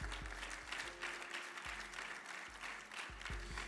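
A congregation applauds steadily throughout a church service, a dense wash of clapping from many hands with occasional low thumps underneath and no voices.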